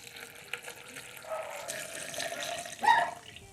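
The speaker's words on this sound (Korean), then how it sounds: "김치 육수를 부어주세요." Kimchi broth poured over cooked brown rice-barley rice and half a soft persimmon, a steady close splash of liquid that swells into a louder gush near the end, with no voices.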